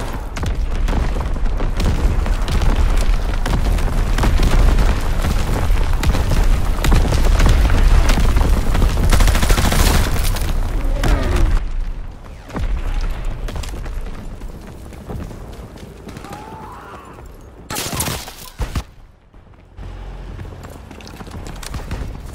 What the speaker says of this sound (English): Firing primary battery.